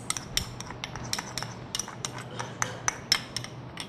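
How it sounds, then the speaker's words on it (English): A utensil stirs a lime water drink, clinking repeatedly against the inside of a container in an irregular rhythm, close and fairly crisp, with no talking. "Okay, and you just mix it all up."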